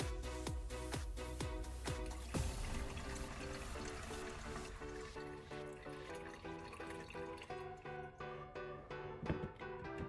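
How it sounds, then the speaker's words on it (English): Homemade tobacco, garlic and chili liquid being strained, a close, steady pour and trickle with scattered drips, with no talking over it. "Strain it again very carefully to remove any leftover pulp."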